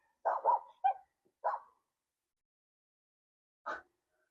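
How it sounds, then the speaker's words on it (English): A small dog barks alone outdoors at a campsite: a quick cluster of three or four sharp yaps, a pause, then one more bark, moderately close with quiet between. "little dog's barking at me"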